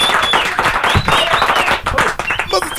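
A caller claps over a phone line into a live radio morning show, a brisk run of claps heard through the call with talk around it.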